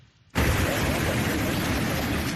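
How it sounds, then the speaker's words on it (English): A sudden loud blast erupts after a brief quiet moment, then a dense roaring rumble sustains at high level without fading, from an explosion in Puerto Vallarta, Mexico. "there was a massive boom"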